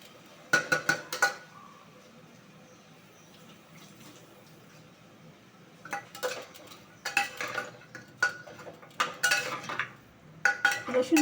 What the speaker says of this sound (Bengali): রসুন বাটা পেঁয়াজ বাটা দিয়ে আমি আরও 2-3 মিনিট কষে নেব।